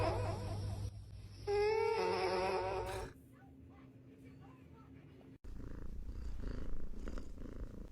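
A sleeping cat purring softly and close, a low rhythmic rumble heard beneath a voice that speaks over it, with other faint background sound later.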